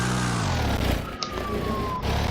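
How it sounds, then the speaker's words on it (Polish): A Fiat 126p's small engine drones steadily from inside the car, with a thin whining tone sliding downward partway through. "Teraz, słuchajcie, jedziemy. Naszym pięknym Fiatem, Fiatem 126P."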